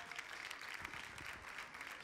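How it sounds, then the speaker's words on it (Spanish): A studio audience at a special music show applauds a contest winner, a faint but steady wash of clapping that holds evenly throughout. "Fuerte el aplauso para el otro ganador."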